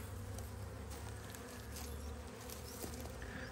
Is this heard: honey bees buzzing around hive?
yes